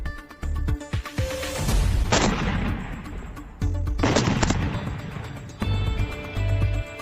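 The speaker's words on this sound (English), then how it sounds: "The explosions are back in Webster." Loud booming explosions at night in Webster, New York, several sharp blasts with rolling echoes, separated by short pauses.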